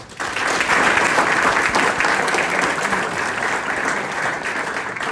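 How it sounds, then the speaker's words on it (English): Loud, dense audience applause at a 2022-2023 award night, a sustained roar of many hands clapping close by that holds steady for several seconds before easing slightly. "I think they deserve a round of applause"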